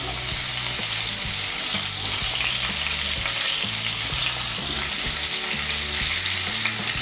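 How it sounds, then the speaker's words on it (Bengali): Boiled jackfruit, cooked first with salt and turmeric, fries loudly in a pan, a steady dense sizzle with stirring scrapes running throughout, close and without any talk. "এর মধ্যে এখন আমি সেদ্ধ করা এঁচড়টা ভেজে নেব।"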